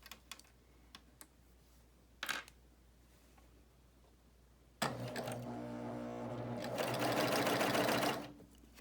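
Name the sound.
BabyLock Euphoria coverstitch machine sewing a hem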